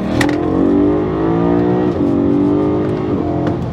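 A BMW E90 M3 engine revs loudly and close by, its pitch sweeping up and down through a couple of long, growling pulls.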